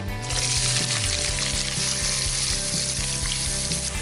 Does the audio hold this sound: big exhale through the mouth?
no